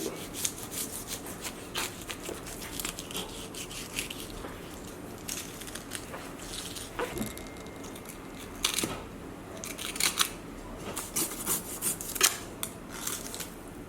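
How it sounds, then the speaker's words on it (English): A knife works through a large blue groper fish as it is filleted outdoors, giving repeated close rubbing, scraping and slicing strokes in irregular bursts. "So now I'll fillet this big blue groper."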